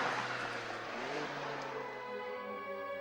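A powerful Ferrari sports car with a 540-horsepower engine revs up, its engine note rising and then settling into a steady, moderately loud drone.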